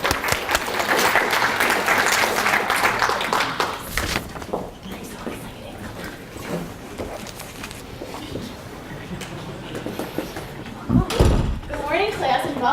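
Audience at a college cabaret show giving a round of applause, a burst of clapping that fades after a few seconds, followed by knocks, thumps and voices talking nearby.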